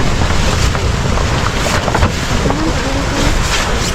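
Strong gusty wind buffets the microphone continuously, a loud, broad roar that swells and dips across the whole stretch, with no talking.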